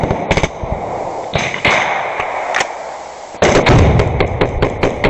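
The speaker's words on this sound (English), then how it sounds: "Oh, a little grenade went off right over there." Combat gunfire and grenade blasts crack in rapid, irregular bursts of sharp reports over rumbling background noise, growing heavier and closer near the end, with no talking.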